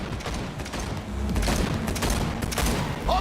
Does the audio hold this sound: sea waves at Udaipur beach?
no